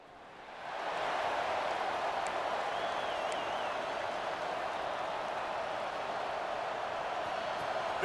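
Stadium crowd in the College Football 26 video game swells into a loud, steady roar of cheering that holds without letup, with a faint whistle-like tone briefly riding over it.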